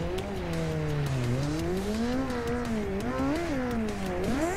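A Kawasaki 636 stunt bike in the Ride 2 racing game revs hard and continuously, its engine pitch sliding up and down through gear changes, loud and close with no talk.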